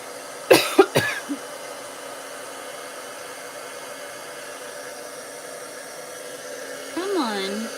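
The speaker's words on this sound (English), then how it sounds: "And let's do our heat embossing." A heat embossing gun blows hot air onto a Christmas gift card holder craft, producing a steady soft hiss throughout, with a few sharp coughs near the start and a voice briefly near the end.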